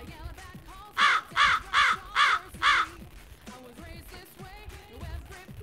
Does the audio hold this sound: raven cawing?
yes